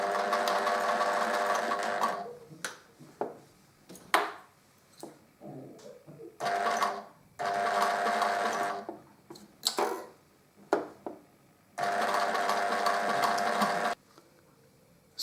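A sewing machine stitches in the ditch along a bias-bound hem in bursts of steady running, several runs of a few seconds each, separated by pauses filled with small handling clicks and taps.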